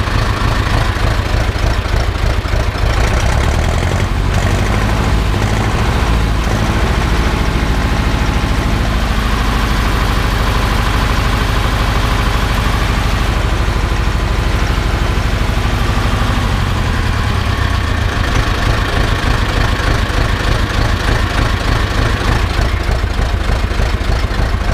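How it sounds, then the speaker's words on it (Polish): A Ursus C-360 tractor engine under repair idles loudly right beside the listener. A steady, throbbing diesel rumble with a slight knock runs unbroken, and the pitch dips briefly near the end. "Nie wiem, co myślicie o pracy tego silnika?"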